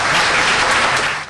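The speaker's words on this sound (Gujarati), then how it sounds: "એની માટે જોરદાર તાળીઓ આપો." A short, loud burst of audience applause fills a hall at an anchored community programme, a dense wash of clapping hands that fades toward the end.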